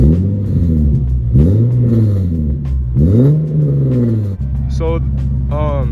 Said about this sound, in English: So that was kind of like a little rev